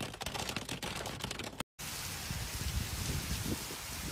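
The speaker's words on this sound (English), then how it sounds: "the region was hit by a severe thunderstorm accompanied by high electrical activity, heavy rains, squally winds and an all-time large hail" Heavy rain in a severe thunderstorm with squally winds and large hail, a dense steady roar of drops beating on surfaces, loud and close throughout, with a very brief break near the middle.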